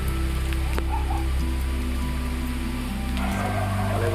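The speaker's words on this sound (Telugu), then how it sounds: "చూసారా ఎంత పెద్దగా వర్షం పడుతుందో" Heavy rain pours steadily at night, a dense unbroken hiss of drops hitting surfaces close by, with a low hum underneath and no voices.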